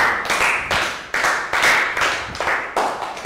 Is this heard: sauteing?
no